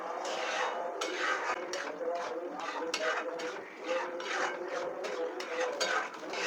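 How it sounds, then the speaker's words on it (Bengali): Moong dal with bitter gourd is stirred into hot tempering in a metal pot. A spoon scrapes and knocks against the pot in a steady, close, continuous rhythm. "তারপরে ডালটাকে আমি ভালো করে ফোড়নের সাথে এইভাবে মিশিয়ে নিচ্ছি।"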